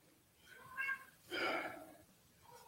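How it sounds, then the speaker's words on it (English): A cat meowing outside a house, two drawn-out meows a moment apart, fairly close and clear, followed by a quieter trailing call. "That cat's outside again."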